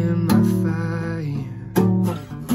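Acoustic guitar strums chorus chords close and full, with bright strokes marking the rhythm in a steady strummed pattern; no voice.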